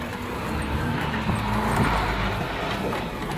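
A motor tricycle engine drones steadily on a mountain road near Montalban, Rizal, a loud continuous rumble with road noise that swells slightly midway, no talk over it.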